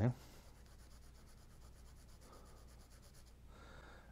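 A graphite pencil rubs steadily across paper while shading, a soft continuous scratchy hiss close up and quiet, with no speech heard.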